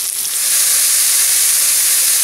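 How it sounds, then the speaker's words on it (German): Goulash meat is being seared in a pot. It gives a loud, steady, close sizzle that rises in the first half second and then holds evenly, with no talk over it. "Gulaschfleisch tue ich jetzt einfach ein bisschen anbraten, dass es ein paar Röstaromen kriegt"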